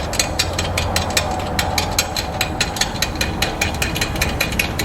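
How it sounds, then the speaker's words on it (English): A quick link on a safety cable for a Curt custom base plate on a 2017 Jeep Wrangler is tightened down, giving a steady run of sharp, evenly spaced metallic ratcheting clicks, close and alone. "we can tighten down the quick link"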